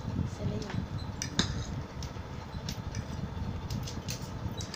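Cutlery scraping and clinking against a plate while stirring long pasta with sauce, a steady busy clatter of small metallic taps and scrapes up close, with faint background hum.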